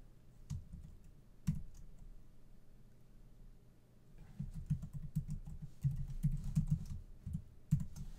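Someone types a password on a computer keyboard: a few isolated key clicks, a pause, then a quicker run of soft, close tapping, quiet against a low background hum.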